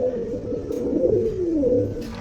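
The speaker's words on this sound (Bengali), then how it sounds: "এই কবুতর জোড়াটা হচ্ছে মাক্সি হুমা কবুতর।" Maxi Huma pigeons in a rooftop garden aviary give soft, low, rolling coos that rise and fall against a quiet background hum.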